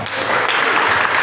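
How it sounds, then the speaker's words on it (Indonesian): Steady, dense applause from an audience during a Quran recitation session, loud and continuous throughout the short burst. "Tepuk tangan."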